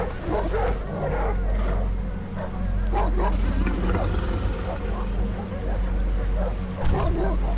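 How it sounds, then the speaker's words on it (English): Bear-dog creatures in the survival horror game Heartworm snarl and bark in a low, rough growling mix that swells and fades over several seconds, with a person talking over the game sounds. "Oh, they're like bear dogs."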